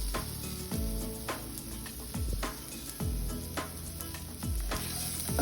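Coconut mixture fries in a pan over medium flame with a steady close sizzle, broken about every second by the scrape of a spatula stirring it.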